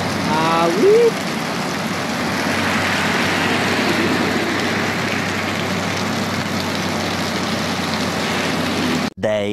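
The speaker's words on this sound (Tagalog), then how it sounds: "Paano kami makakausap kung ganyang kalakas ang ulan?" Heavy rain hisses loudly and steadily as a dense wash during an electric scooter ride, with a brief voice near the start and a short break near the end.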